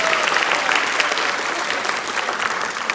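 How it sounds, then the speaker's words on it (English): An audience applauds at a middle school summer band camp concert: dense, steady clapping from a large crowd fills the whole stretch at an even, fairly loud level. "please give yourself a big round of applause."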